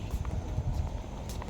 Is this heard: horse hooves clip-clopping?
yes